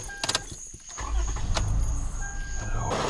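A 2009 Toyota Highlander engine is started after a few light clicks, cranking and catching into a steady, close, low rumble that holds to the end.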